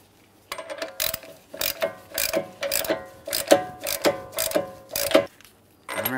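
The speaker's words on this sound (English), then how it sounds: "Now we'll continue on tightening this using a hand tool." A ratchet hand tool tightening the CV axle nut on a 2011-2021 Jeep Grand Cherokee, heard as a steady series of close, loud clicking ratchet strokes with short pauses between them and no speech.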